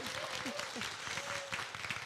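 A congregation claps during a church life festival service: scattered applause rings out briefly and moderately near, with a voice speaking over it.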